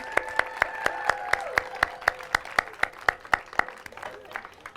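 Steady, evenly spaced handclaps, about four per second, ring out over a soft sustained musical tone, with no voices.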